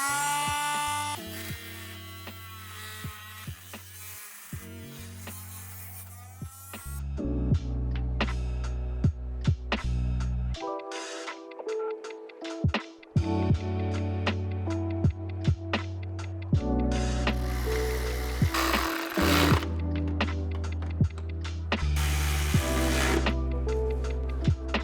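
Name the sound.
Dremel cutting Ford Bronco valance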